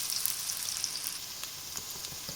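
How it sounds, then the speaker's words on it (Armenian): Onion frying in a pan with tomato paste, giving a faint, even crackling sizzle with a few light stirring ticks near the end and no talking. "Սոխը լցնում ենք ու տապակում ենք։"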